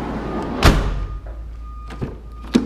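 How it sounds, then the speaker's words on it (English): Sliding side door on a Chevrolet Uplander minivan, heard as a sharp near thunk followed by two softer knocks a moment later, with no talking. "Door slides very nicely"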